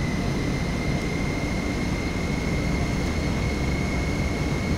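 A Boeing 727 engine starting in a flight simulator game, a steady loud jet whine and broadband roar with a sustained high tone, continuous and unbroken with no talk.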